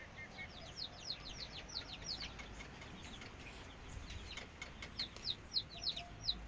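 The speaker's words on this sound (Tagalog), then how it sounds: "Nandito po yung ating mga sisiw" Chicks and chickens in a backyard coop cheep and cluck softly at a distance, a run of quick high peeps rising and falling over a steady low hum of background noise.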